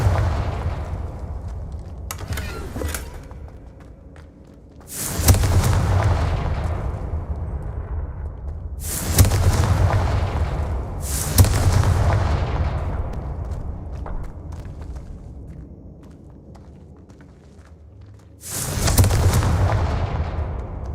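Confringo fire spell explosions in the Hogwarts Legacy video game: four loud, booming blasts, each with a sharp crack and a rumbling decay, spaced a few seconds apart over a low steady background.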